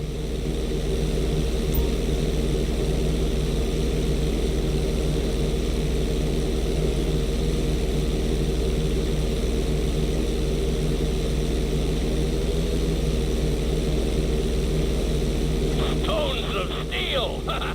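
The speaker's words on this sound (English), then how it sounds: "On my mark, perform a barrel roll by pulling your flight stick to the left or right." A steady, loud propeller-plane engine drone from GTA V holds constant through a series of barrel rolls, with a brief rattling burst near the end.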